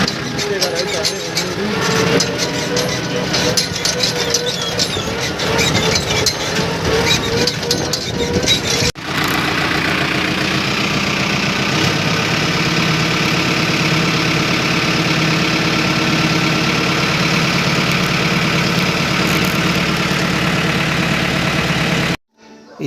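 A tractor engine runs steadily and loudly nearby, a continuous low rumble that holds at an even idle throughout with a brief break before it carries on.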